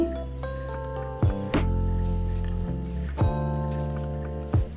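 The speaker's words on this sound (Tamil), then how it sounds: "இந்த தண்ணியே ஊற்றி" Water pours and gurgles into a cooking pot in a few bursts, with hollow glugging and drips between pours, close and fairly loud.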